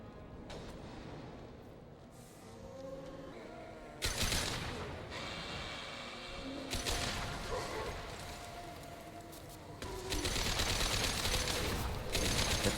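Dense bursts of gunfire and impacts from a firefight against zombies in Mass Effect 2 come loud and sustained, swelling into heavier volleys near the start, middle and end, with no voices.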